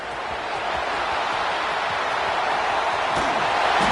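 Stadium crowd in the College Football 26 video game roaring after a punt return in a Central Michigan versus Tennessee matchup, a dense, steady wall of cheering that swells slightly throughout, with a commentator's voice beneath.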